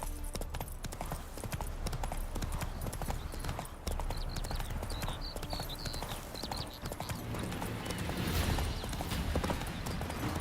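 Roach the horse's hooves clip-clop at a steady trot through a Witcher 3 game world, repeated hoofbeats over ambient game sound, with a brief whinny-like cue and a voice speaking at times.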